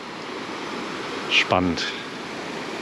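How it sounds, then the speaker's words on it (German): A small waterfall near Ordu, Turkey, gives a constant rushing hiss, with a brief spoken word heard over the water. "Der Krach ist ein bisschen laut hier. Naja, das ist jedenfalls jetzt der Wasserfall."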